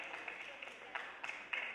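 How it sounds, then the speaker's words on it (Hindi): Faint, steady applause from a literary festival audience in Delhi, welcoming the first poet of a Hindi-Urdu monsoon poetry session, with a few slightly louder bursts of clapping rising above the low patter. "आइए पुनः तालियों के साथ पहले कवि को हम बुलाते हैं।"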